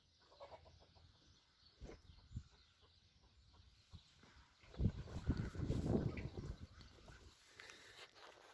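Hens clucking in a farmyard breeding pen, soft scattered calls that swell into a louder, busier burst of clucks midway before settling again, with faint rustling in the background.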